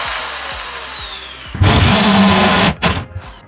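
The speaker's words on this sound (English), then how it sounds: "My drill's smoking again." A smoking power drill boring through an interior door for a knob: the motor whines down for a moment, then a loud, gritty grinding burst as the bit bites, stopping abruptly and followed by short knocks.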